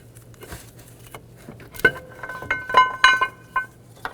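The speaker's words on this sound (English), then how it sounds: "Now we can take this bracket, slide it in position." A metal bracket on a 2010-16 Cadillac SRX engine clinks a few times as it slides into place during VVT solenoid replacement, with sharp close metallic taps and rattles over a faint steady hum.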